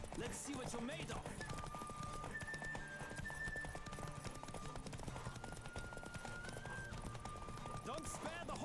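Hoofbeats of Roach galloping in a Witcher 3 horse race pound in a fast, continuous rhythm under a sustained musical score, while a voice speaks intermittently over the ride.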